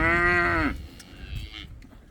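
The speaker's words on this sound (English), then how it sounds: "The cows, they talk to each other." Young bull calves on a farm: one long, loud, close moo with a rich harmonic tone falls off sharply, then a fainter, more distant moo follows from another calf.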